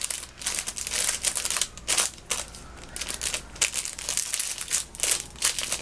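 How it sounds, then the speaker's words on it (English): Gloves are pushed back into a plastic bag, which crinkles and crackles in loud irregular bursts close by, with brief pauses between handfuls. "so I'm putting them back in a plastic."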